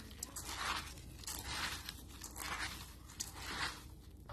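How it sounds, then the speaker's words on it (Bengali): Khichuri ingredients are tossed and mixed together with a light drizzle of mustard oil, giving a continuous close crunchy rustling with uneven surges, and no talking. "এবার সব কিছু একসাথে মাখিয়ে নেব।"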